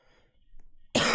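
A single loud, abrupt cough bursts in near the end after a stretch of near silence, close to the microphone during a Roblox Toilet Tower Defense gaming stream.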